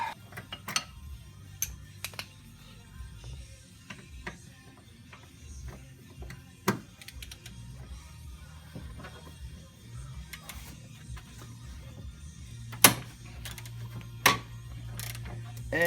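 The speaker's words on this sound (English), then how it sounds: "That way I can get more torque on this wrench in order to hopefully loosen these bolts up" A wrench works at tight bolts on a Nissan 300ZX, giving scattered metallic clicks and ratcheting knocks with a few sharper bangs, over a low background hum.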